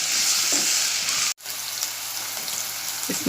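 Sliced onions with curry leaves frying in hot oil in a pan, a steady close sizzle with a brief break midway, then sizzling again.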